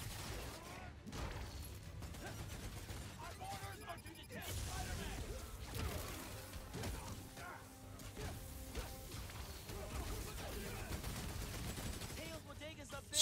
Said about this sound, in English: Stop shooting at me, damn it.